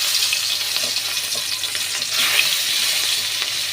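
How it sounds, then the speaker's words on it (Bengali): Rohu fish pieces fry in hot oil with a loud, steady, hissing sizzle and faint crackles that rise slightly partway through, heard up close with no talking. "তেল আমার গরম হয়ে গেছে, এবার আমি মাছগুলো ছেড়ে দেবো।"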